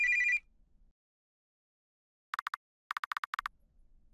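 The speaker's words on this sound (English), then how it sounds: "I'll go answer the phone." A video game telephone rings in bursts, a bright electronic trill repeating several times in quick clusters after a brief earlier chime, with near silence between.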